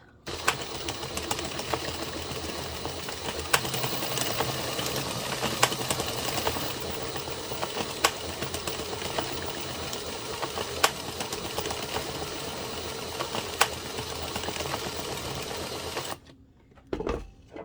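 An Addi 22-pin circular knitting machine is cranked steadily through a few rounds of waste yarn, a rapid, even mechanical clatter with regular clicks that runs for about sixteen seconds and then stops abruptly, followed by brief handling noise.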